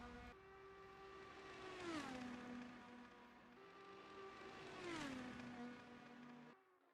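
Race car in the GT Club video game howling down the main straight, two long high-revving passes with engine pitch dropping as each car sweeps by, steady and continuous.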